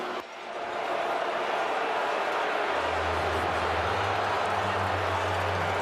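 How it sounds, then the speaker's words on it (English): Stadium crowd at Mosaic Stadium reacting to a football penalty call, a broad, sustained roar of many voices that swells quickly and holds steady and loud, with a low rumble joining partway through. "Reaction from the crowd at Mosaic lets you know exactly what they're thinking."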